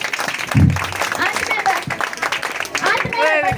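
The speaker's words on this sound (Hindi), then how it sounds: "ताली मारिए।" Audience applause at a 15 August Independence Day speech event, a broad clatter of clapping running under and around a speaking voice, with a louder burst near the start.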